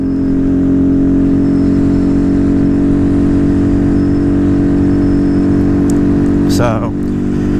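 A Honda Grom motorcycle with a high-compression piston, upgraded camshaft and tune hums along with a steady, loud mid-pitched engine drone while being ridden, holding an even pace throughout.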